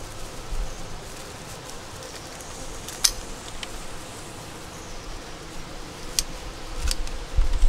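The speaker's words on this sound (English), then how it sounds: "We're gonna take these bees here. There's a bunch of them in there." Honey bees hum in a steady, close swarm around frames being moved in a hive full of stores, a continuous droning buzz with occasional sharper passes and light rustling handling noise, no talk.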